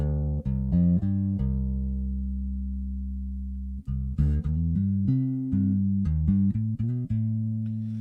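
Alembic bass guitar played through a Soma Cosmos effect with the treble turned down: long sustained low notes, then a run of quicker plucked notes, each blooming and fading, with no talking.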